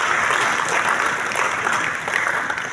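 An audience at a formal event gives sustained applause, a loud, dense wash of clapping from many hands that lasts the whole clip without a break.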